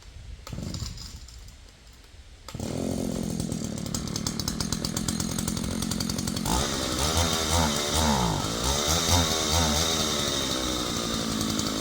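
An old chainsaw, stored with a dry carburetor, gives a few quieter pulls and sputters, then fires and runs loud and close, with a steady high buzz that revs up and rises in pitch partway through.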